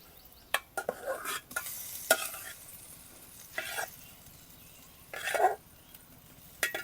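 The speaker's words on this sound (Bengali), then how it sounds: "ভাজা রাখা ভেন্ডিগুলোও এখন দিয়ে দিব।" Fried okra being stirred in a frying pan for a poppy seed bhindi curry, with a few short scraping stirs and soft sizzling bursts spaced apart, close and fairly quiet.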